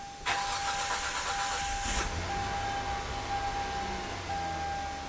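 A 2008 Hyundai Santa Fe engine cranks and catches after a fuel sender replacement, then settles into a steady idle with a high electronic chime tone running alongside; no talking.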